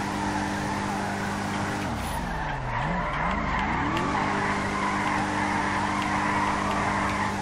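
A BMW drifting in GTA 5, tires squealing in a long wavering skid over a steady engine drone, loud and close throughout with the squeal bending up and down mid-slide.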